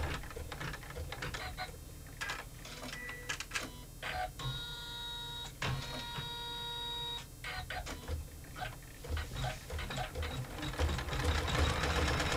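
A sewing machine stitches a quilt block in short bursts, starting and stopping repeatedly with clicking pauses and a brief whirring stretch in the middle, fairly quiet and close.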